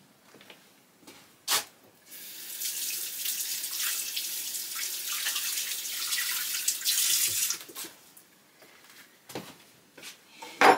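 Water from a kitchen tap runs steadily for several seconds while hands are washed beneath it, framed by a few sharp clicks and knocks from the sink before and after.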